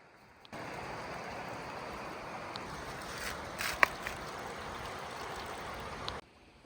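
Water poured into a pot for noodles: a steady, continuous rush lasting about six seconds, then stopping.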